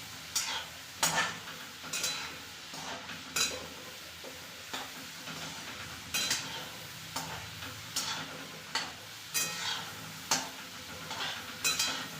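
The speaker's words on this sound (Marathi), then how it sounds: "लो फ्लेमवरच आपल्याला हे तळून घ्यायचे नाही तर हे आतमधून कच्चे राहू शकते" French fries frying in oil over a low flame, a steady soft sizzle broken by regular sharp scraping and stirring strokes about once a second, close and alone without voices.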